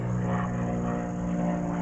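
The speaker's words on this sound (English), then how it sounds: "there's an airplane going over top of us" A propeller airplane drones steadily overhead, a continuous low engine hum with a constant tone throughout.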